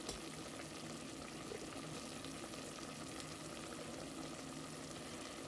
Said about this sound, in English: So this has been boiling for about 15 minutes